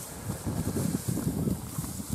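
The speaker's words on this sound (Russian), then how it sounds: "Ну и ветрище сегодня." Strong, chilly wind gusting outdoors in a village beside hay fields, heard as rough, buffeting rushes and microphone rumble that rise and fall in uneven surges, with no voices.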